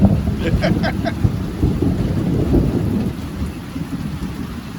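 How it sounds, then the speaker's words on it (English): Steady heavy rain during a thunderstorm with southeast wind, a dense continuous wash with low rumbling thunder throughout, close and loud, with no voices. "It's raining. Wind is blowing out of the southeast."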